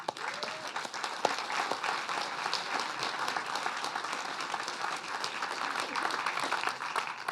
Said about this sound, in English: I think you should give yourselves a massive round of applause